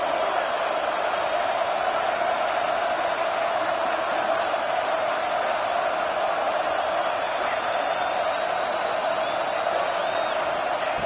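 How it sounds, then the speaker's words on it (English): A large stadium crowd at a college football game between Utah and West Virginia roars in a steady, dense wash of cheering that holds at an even level, with no pauses. "this crowd coming to life here, trying to help the defense get a stop with the offense pinned back"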